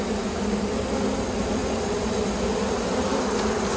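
A late-season honeybee swarm buzzes in a dense, continuous hum, close and steady throughout with no voices.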